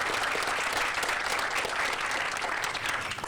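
A crowd applauds steadily for the Springfield Area Soccer Association at an outdoor sports park groundbreaking ceremony, the clapping dense and sustained throughout without talk.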